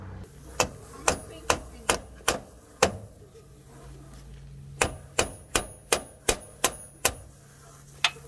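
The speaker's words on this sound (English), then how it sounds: "we're gonna tap on the other end of the cold chisel with the hammer." Sharp metallic taps of a hammer striking a cold chisel to separate a CV axle on a 2010 Toyota Corolla, a few spaced blows, a pause, then a quicker steady run of ringing hits, close up.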